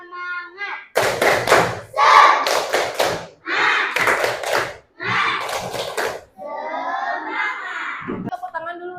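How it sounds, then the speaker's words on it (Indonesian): A primary school class performs a rhythmic spirit clap, with bursts of hand claps and thumps falling in patterned groups. Children's voices chant between and over the claps. "Tepuk semangat."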